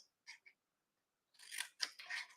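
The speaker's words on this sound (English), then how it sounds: "I'm going to take my paper snips and I'm going to cut up the score lines on each end" Paper snips cut up the score lines on a cardboard treat box, giving two short clicks and then several rasping, crunching cuts close by in a quiet room.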